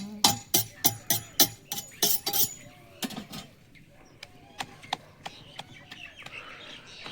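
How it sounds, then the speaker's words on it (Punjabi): Mynas and a dove calling in a rural setting near a wood-fired stove, a rapid series of sharp loud chirps followed by sparser, softer calls with a faint background. "ਗਟਾਰਾਂ ਬੋਲਦੀਆਂ ਘੁੱਗੀ ਵੀ ਬੋਲਦੀ"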